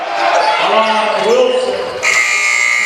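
A buzzer blares at the end of the third quarter of a prep basketball game, a steady electronic tone cutting in over loud crowd noise and announcer commentary in a gym.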